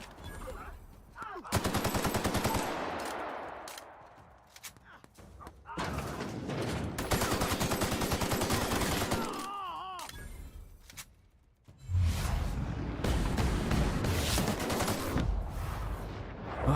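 Bursts of automatic gunfire in a video game, loud and sustained in three long volleys separated by short lulls.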